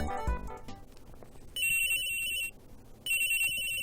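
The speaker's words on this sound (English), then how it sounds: "Whoops, excuse me. Phone call." A phone ringtone from Ace Attorney Investigations 2 chimes in two bright, loud bursts separated by a short gap, following a brief bit of softer background game sound.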